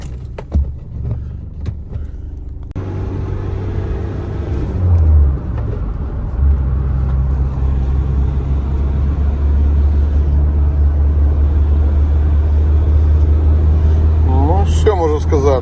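A Renault Master 2.3 van engine (2017) rumbles close by, starting up and revving, then settling into a steady low drone as the vehicle moves; someone talks over it.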